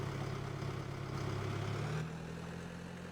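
A tractor in Farming Simulator 17 idles with a low, steady engine hum, quiet and constant throughout, dropping slightly in level partway through.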